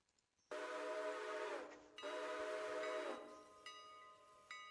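A passenger train in the Railroader video game sounds two long, loud harmonic whistle blasts separated by a short gap, followed by softer sustained tones and clanking as it moves off.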